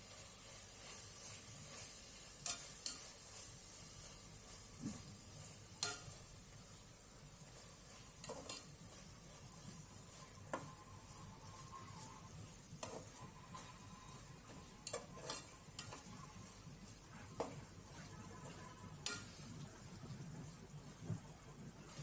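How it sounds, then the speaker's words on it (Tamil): Mint and coriander leaves sautéed in a pan for egg biryani give a faint, steady sizzle with soft intermittent stirring clicks and scrapes, no talking. "இதுக்கப்புறமா நம்ம கொஞ்சமாக புதினா இலை, கொத்தமல்லி இலை சேர்த்து அதையும் நல்லா வதக்கி விட்டுக்கலாம்."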